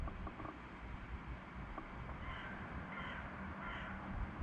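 A crow caws at a distance in the open air, several hoarse calls over steady wind and outdoor rumble, heard while a hunter aims an airgun at it from about 45 yards.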